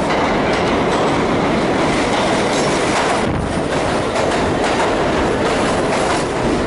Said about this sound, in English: here comes the A. This is our train.